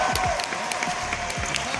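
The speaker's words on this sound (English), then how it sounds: "the massive crowd immediately started screaming catchphrases from Chappelle's show" A massive arena crowd screams and cheers at Dave Chappelle, a dense, loud, continuous roar with claps and shouted voices throughout.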